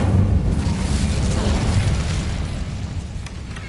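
An Incendio fire spell blast in a Hogwarts video game erupts as a loud, rumbling whoosh of flame that holds steady, then slowly eases off.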